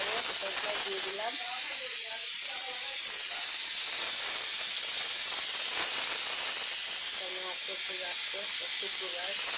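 Water coming to a boil in a pot for pulao in a home kitchen gives a steady, loud, close hiss like rushing steam throughout, with a voice briefly heard in the background.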